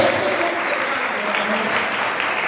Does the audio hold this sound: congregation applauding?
yes